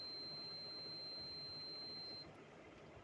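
A multimeter gives a single sustained, thin, high continuity beep lasting about two seconds while a laptop motherboard coil is tested, then stops, leaving faint background hiss.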